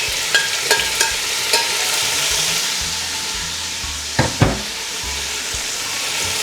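Onion and tomato hit a pan of golden-browned garlic and sauté with a steady, close sizzle, broken by a few sharp clinks and stirring scrapes early on and a pair of louder knocks near the end.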